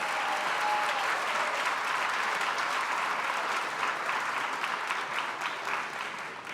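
An audience at a graduation ceremony applauds the graduates in a long, dense, even wash of clapping that fills the hall and tapers slightly at the end.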